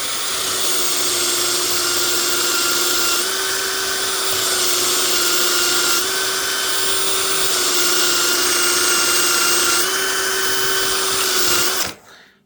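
A cordless screwdriver spins abrasive paper against a meteorite, giving a steady high whine with a grinding hiss that runs continuously and loud for about twelve seconds before stopping abruptly.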